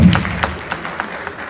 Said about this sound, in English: let's clap for my wife